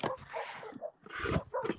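Real dogs barking repeatedly in quick bursts, fairly loud and close, several overlapping barks with brief pauses between them.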